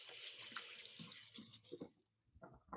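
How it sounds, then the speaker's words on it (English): Tap water runs steadily into a kitchen sink while hands are rinsed, a close, rushing splash that cuts off near the end, followed by a few faint clinks. "Give my hands a quick rinse"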